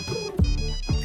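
A mobile phone rings with a short, bright electronic melody for an incoming call, two clear pulses of stacked tones sounding alone and close.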